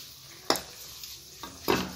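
Black pepper and bay leaves frying in oil in a pan, a low steady sizzle under a few sharp scrapes and clinks of a spoon against the metal.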